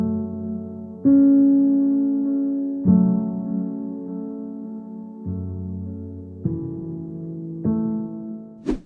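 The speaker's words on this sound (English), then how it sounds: "Then I used a Woodchester piano from Contact to create a melody that sounds something like this." A Woodchester piano from Kontakt plays a slow, sleepy lofi melody of sustained chords and notes, each struck and left to ring, close and clear with no voices.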